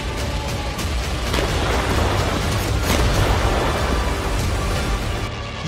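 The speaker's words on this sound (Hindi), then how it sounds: "इस वीडियो में ज़ेलेंस्की को डराने वाला बहुत बड़ा धमाका है।" Large explosion in wartime footage from the Russia–Ukraine war, a sustained heavy rumbling roar that stays loud and broad throughout, with no voices.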